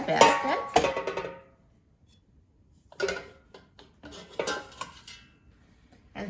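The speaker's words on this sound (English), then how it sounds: "now let's put this pan in the air fryer basket" A pan set into an air fryer basket gives a burst of metallic clatter and scraping, then a pause, then several lighter clinks and taps of metal on metal, close by.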